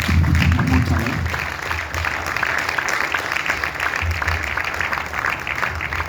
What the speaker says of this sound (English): Please stand up and let's applaud him one more time